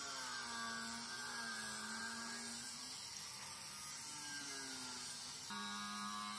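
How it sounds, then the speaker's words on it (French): An angle grinder cutting a metal knife guard in a home workshop gives a continuous high whine with a rough grinding hiss. The pitch dips and rises as the disc bites into the material, and the sound stays steady and close. "Je découpe tout ça à la meuleuse comme d'habitude"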